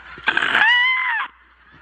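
A person imitates a cockatoo with a loud, harsh, squawking honk, one sustained cry of about a second rising in pitch, heard alone with no other sound.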